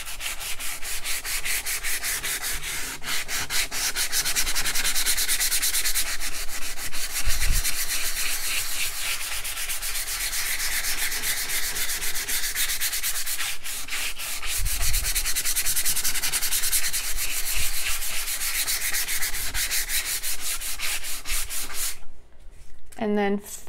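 Wood is sanded by hand with 220-grit sandpaper, a close, continuous scratchy rubbing with rhythmic back-and-forth strokes that runs for over twenty seconds and then stops abruptly near the end.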